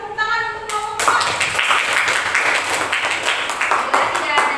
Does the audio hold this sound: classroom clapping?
yes